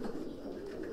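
A racing pigeon coos up close, one low, throaty, continuous coo filling the moment without other sounds.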